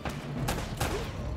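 Gunfire in the video game Uncharted comes as a couple of quick, faint shots against a low game background.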